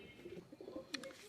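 A female and a male pigeon coo softly and faintly nearby in low murmuring phrases, with a brief sharp click breaking in near the end.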